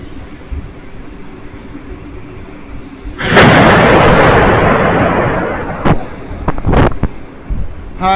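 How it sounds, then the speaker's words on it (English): Two massive missile impacts strike Tel Aviv, heard as a sudden loud, sustained roaring blast that swells and slowly fades over several seconds, followed by a few sharper bursts and thuds against steady background rumble. "Two massive impacts in Tel Aviv."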